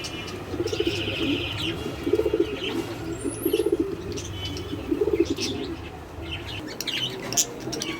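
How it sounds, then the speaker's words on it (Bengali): Pigeons coo in repeated low rolling phrases at a steady rhythm, close by, with brief chirps from other birds and a few soft wingbeats among them. "এখানে আরো কবুতর আছে"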